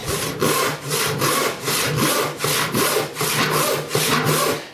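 Steady rhythmic handsaw rip-cut strokes rasping back and forth through wood, about ten even pulls, close and loud with no talking.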